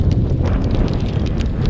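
Strong wind buffets outdoors during truck window tinting, a steady loud rushing roar with gusty microphone rumble throughout.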